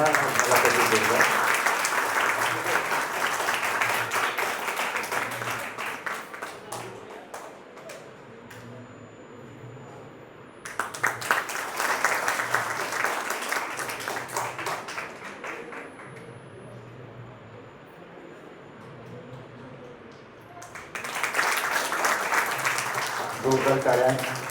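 Audience applause at an International Day of the World's Indigenous People event in Nagpur, three separate rounds of clapping with quieter gaps between them where voices murmur under a sound system.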